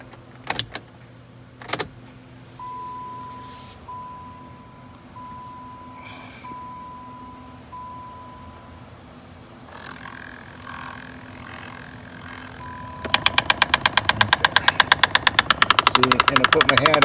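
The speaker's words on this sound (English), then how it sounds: "you'll feel the vibration of it ticking, because what's happening is it's actually skipping on the gears that are inside there" In a 2012 Dodge Avenger, a faulty blend door actuator, skipping on its internal gears, breaks into a loud, rapid, evenly spaced ticking near the end, after a quieter stretch with a faint steady tone and an engine idling.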